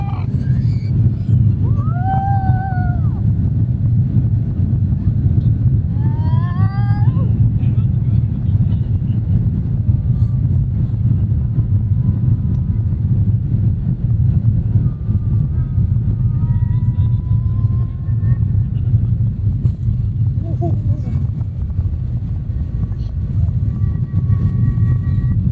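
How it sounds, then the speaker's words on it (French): An airliner takes off from the runway, heard from inside the cabin as a loud, continuous low engine rumble that holds steady throughout, with brief faint tonal whistles over it. "Décollage imminent."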